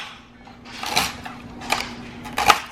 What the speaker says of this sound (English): I just fucking keep chopping until it looks fine